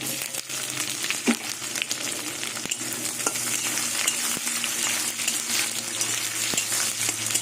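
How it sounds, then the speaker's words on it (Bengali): Onions with crushed garlic frying lightly in a pan, a steady close sizzle with occasional scrapes and taps of stirring throughout, no voices. "পেঁয়াজটা হালকা করে ভেজে নেব"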